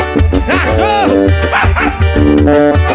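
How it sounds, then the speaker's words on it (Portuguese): Dog barking sound effect woven into a Brazilian paredão funk track, repeated yips and barks punching through a loud, dense beat with sung vocal lines throughout. "Cachorro!"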